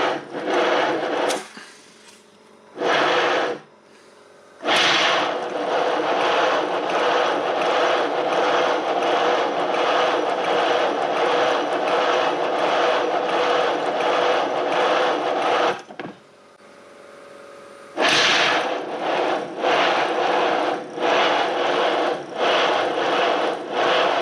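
A small engine runs on compressed air from an air hose, making a rapid, even chuffing beat in loud sustained bursts. Two short pauses break the running.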